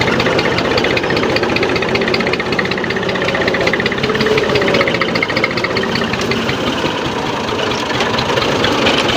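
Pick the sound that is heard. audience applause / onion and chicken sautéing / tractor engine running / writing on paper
tractor engine running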